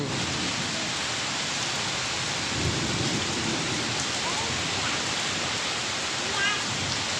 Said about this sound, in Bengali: বৃষ্টি পড়তেছে, অনেক সুন্দর বৃষ্টি পড়তেছে